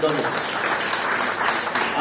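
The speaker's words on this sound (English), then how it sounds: "let's give Ms. Celestine Higgin a round of applause" Audience applause at a Ministry of Education press conference, a steady spread of clapping sustained for about two seconds with a voice speaking over it.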